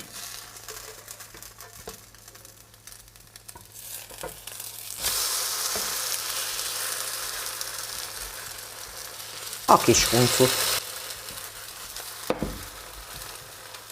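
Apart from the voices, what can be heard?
spiced zucchini pancake frying in a pan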